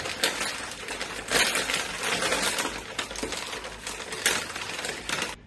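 Smoked prime brisket being unwrapped after a long overnight cook and hours of holding, giving close, steady crinkling and rustling of wrap throughout with a few louder crackling bursts.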